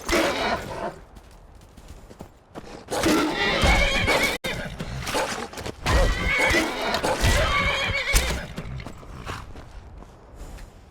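A horse in the video game Skyrim lets out loud, drawn-out neighs and whinnies, mixed with clip-clop hoofbeats and creaky mechanical sounds, with a brief cut partway through.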